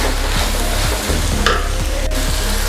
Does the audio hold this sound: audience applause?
no